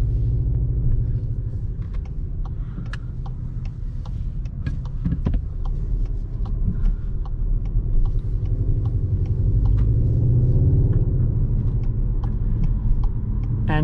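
A 2021 Skoda Octavia RS with a 2.0 TSI petrol engine of 245 horsepower makes a steady, deep engine rumble inside the cabin at moderate speed, with light ticking and road noise over it.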